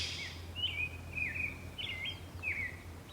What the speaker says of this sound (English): Bird calls.